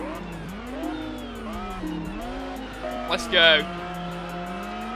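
A Jaguar and a McLaren F1 race in the video game Test Drive Unlimited on PS2, with a steady engine drone rising and falling in pitch, a brief tire squeal, and a voice talking over it.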